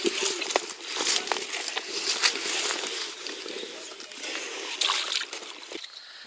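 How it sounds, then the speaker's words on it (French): A fish is released back into the water after a fishing session, giving soft splashes and sloshing with a few sharper slaps, close by and moderately quiet. "Allez, on va la remettre à l'eau."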